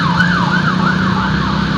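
An ambulance siren wails loud and close, its rising and falling tone cycling rapidly and steadily over a low engine hum.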